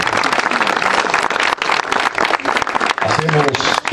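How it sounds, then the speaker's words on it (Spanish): A seated audience at a civic event applauds council members and municipal officials, with dense clapping mixed with loud, close speech over a public address system. "Nuestro reconocimiento, nuestro aplauso a síndicos y regidores que también hoy nos acompañan."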